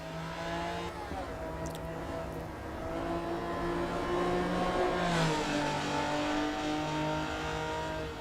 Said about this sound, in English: That raspy sound you hear from the exhaust.